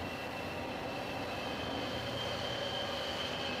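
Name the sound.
steam circulating in pipes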